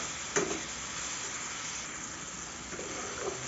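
Chopped tomato with salt and turmeric sautés in a pan for a mixed lentil dal, giving off a faint, steady sizzle with a few soft stirring scrapes.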